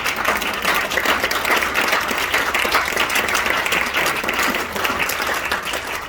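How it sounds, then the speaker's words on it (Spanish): A church congregation claps together in sustained, dense applause that stays steady and loud throughout, with no voices heard above it. "Le damos un aplauso al Señor"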